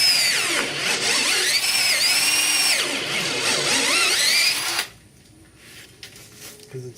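A power drill bores through aluminum inside a boat's swing keel, a loud, steady high whine with rising and falling pitch for about five seconds, then stopping abruptly and leaving faint clicks and shuffling.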